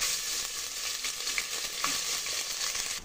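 Ginger garlic paste sizzling in a hot pan for chicken biryani, a steady close crackle and hiss with faint stirring scrapes, no voices.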